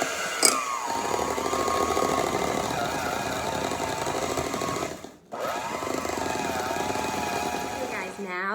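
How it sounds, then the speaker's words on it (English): Electric hand mixer beating a cream cheese mixture on its first setting, a steady loud whirring drone that dips briefly near the middle and then resumes, with a voice faintly present. "now that I am done mixing, it did take me around 2 minutes to get a smooth, creamy texture"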